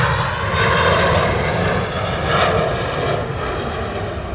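A Ryanair jet on the move at London Stansted Airport gives off a steady, loud engine roar with a broad whine that swells gently and then settles, with no voices over it.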